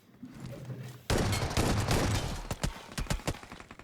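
Shotgun fire erupts in a shooting video game as a sudden loud blast followed by a rapid string of sharp shots and crackling impacts.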